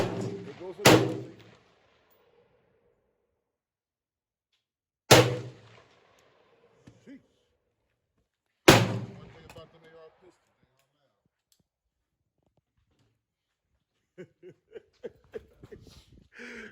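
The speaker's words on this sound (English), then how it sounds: "They not like the noise that the AR pistol will make." Three loud, sharp gunshots from an AR pistol ring out at a 100-yard range, spaced several seconds apart, each with a booming decay, followed by a few faint clicks and a brief rattle of handling noises.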